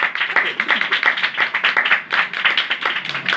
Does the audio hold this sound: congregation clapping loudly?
yes